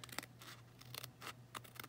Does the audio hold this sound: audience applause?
no